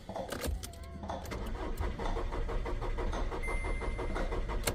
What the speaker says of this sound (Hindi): बस ये गाड़ी स्टार्ट नहीं हो रही है।